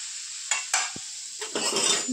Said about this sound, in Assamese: এনেকৈ কিছু সময় ভাজি থাকিব লাগিব